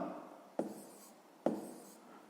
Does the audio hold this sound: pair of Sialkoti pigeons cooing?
no